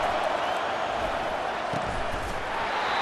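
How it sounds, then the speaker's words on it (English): Steady stadium crowd noise from an EA Sports College Football 25 game, a broad constant roar of many voices holding at an even level, fairly loud and unbroken with no individual talking. "They've got them pinned deep in their own end, and this crowd trying to help keep them there."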